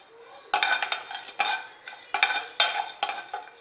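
Pepper, cinnamon and fennel dry-roasting in a pan for chicken masala powder, stirred in bursts of dry rattling scrapes, with several repeated strokes, close and fairly loud, no speech.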